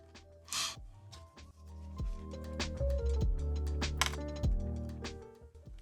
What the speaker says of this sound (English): I'm gonna use my spudger, my spacer, and I'm just gonna pop those clips open.